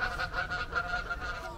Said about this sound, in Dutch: Of zwanen, wat zijn het eigenlijk? Ganzen. Ja, ganzen.